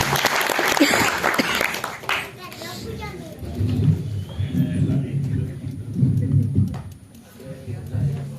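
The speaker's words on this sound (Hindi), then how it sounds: "जोरदार तालियां कामता साहब की।" Audience applause for poet Kamta at a Hindi comic poetry gathering in Mysore Auditorium, Mumbai, rings out loudly for about two seconds, then fades as a voice takes over and speaks over a murmuring room.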